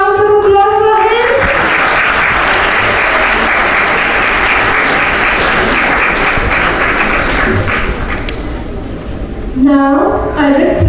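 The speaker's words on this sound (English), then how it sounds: "Can we have a round of applause for him?" Loud, sustained round of applause from an assembled audience welcoming a guest at a formal event, steady crowd clapping for several seconds between stretches of amplified speech.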